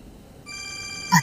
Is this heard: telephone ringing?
yes